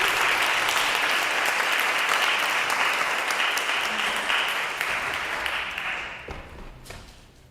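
A congregation at a Sunday church service applauds in a full, sustained round of clapping that stays strong, then thins and fades away toward the end.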